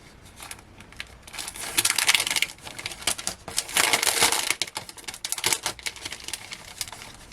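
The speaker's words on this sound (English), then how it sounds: "So it's still in the packet, so apologies, it's going to crinkle" A plastic packet crinkles close by as a Christmas bells card topper is pulled out of it, with irregular rustling and crackling bursts rising and falling for several seconds.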